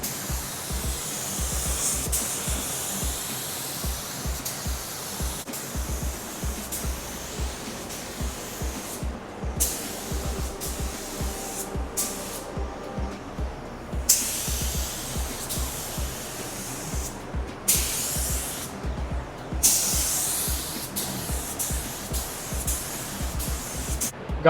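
A spray gun lays a final thick coat of paint on a Volkswagen Beetle body in repeated bursts of hissing spray, with a pulsing low compressor-like throb beneath and brief gaps between passes, close and steady.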